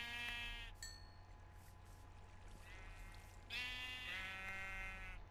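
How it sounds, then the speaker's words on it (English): Several sheep bleats in the game Minecraft ring out over a low steady hum, one near the start and another pair midway, each a wavering nasal cry. "I found a sheep."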